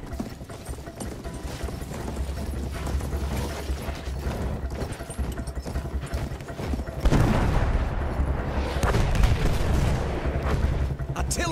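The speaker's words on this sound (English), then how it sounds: "Artillery fire ordered the cover retreat to beach, shelling the village and outlying forts." Artillery shells a village and outlying forts in Battlefield 1, a continuous rumble of booming blasts and clattering impacts that grows louder and heavier partway through, with a voice speaking over it.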